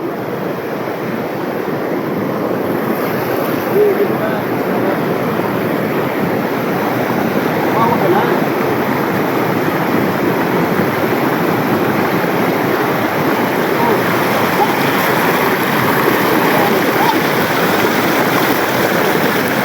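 Rushing water at Pahalang Falls makes a loud, steady, broadband roar that holds constant throughout, with faint wind noise mixed in.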